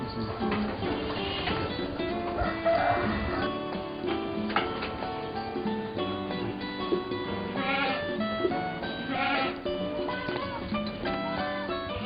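Several young Etawa goats bleat repeatedly in high, wavering cries at feeding time over a steady background hum, some calls overlapping close by.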